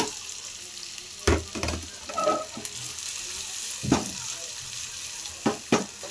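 Onions fry in a pan for an egg and chicken dish, a steady sizzle broken by several sharp metallic clanks as a ladle stirs and scrapes them, close by with no talking.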